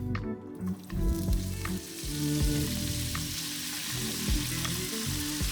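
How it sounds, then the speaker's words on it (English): Pork pieces searing in a pan with a little oil, giving a steady loud sizzle and crackle with occasional stirring scrapes, no talking. "So now we're just going to seal off the pork, so add that into the pan."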